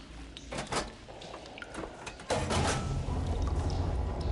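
Game machinery switching a water flow: a sliding, clanking mechanism followed by a sustained rush of flowing water that sets in abruptly and continues steadily.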